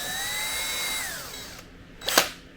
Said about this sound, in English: So we're going to drill that through.